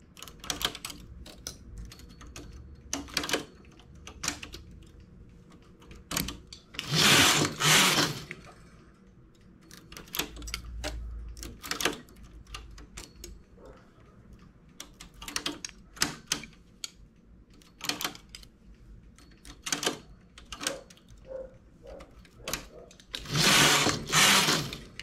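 A domestic knitting machine's carriage runs in short rattling, clacking sweeps, several separate passes broken by quieter pauses and small clicks as stitches are worked on the needles, close and without talk.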